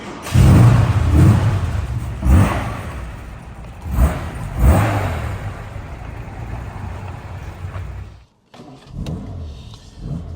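A 1967 Aston Martin DB6 Vantage with a rebuilt 4.7-liter engine and five-speed manual revs up close and loud on a slightly cold start, with three strong blips between idling, then a short cut-off and a restart.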